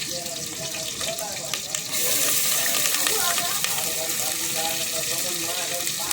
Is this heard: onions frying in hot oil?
yes